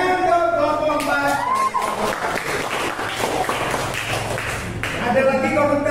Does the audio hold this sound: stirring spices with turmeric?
no